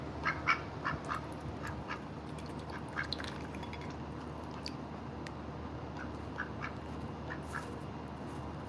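Pet duck indoors giving several short, fairly faint quacks in scattered bursts over a steady low room hum.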